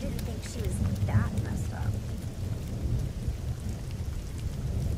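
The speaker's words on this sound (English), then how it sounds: "And it's raining out here." Heavy rain pours in the Life is Strange video game, a dense steady roar with low rumbling like distant thunder underneath, loud and continuous throughout.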